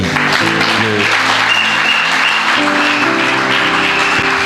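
A church congregation applauds loudly and steadily, with sustained musical tones from instruments playing beneath the clapping.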